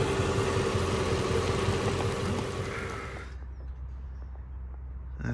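Mercedes SL500 engine with ABC suspension idling steadily, a loud broadband engine hum for the first few seconds that drops to a quieter, lower rumble partway through, with no talking.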